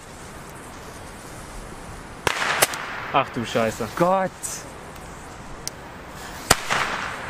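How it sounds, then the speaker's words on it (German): Small Comet pyro crackers go off outdoors in a few sharp, isolated bangs spread over several seconds, with a person exclaiming between them. "Fangen wir mal mit den kleinen Pyro-Crackern hier an."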